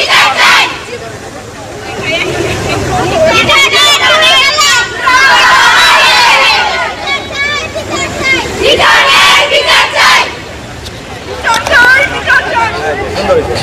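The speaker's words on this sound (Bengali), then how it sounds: "তারা রাস্তা বন্ধ করে স্লোগান দিচ্ছে, বিচার চাই, বিচার চাই, লিটনের বিচার চাই" Students blocking a road in Ghatail, Bangladesh, chant rhythmic protest slogans in loud repeated group shouts that rise and fall, with crowd noise between the chants.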